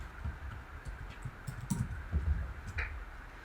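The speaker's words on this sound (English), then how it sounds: "I'm going to type brand new listing" Keyboard typing while text is entered in a graphic design app, a quiet run of soft irregular key clicks over low room noise with no talking.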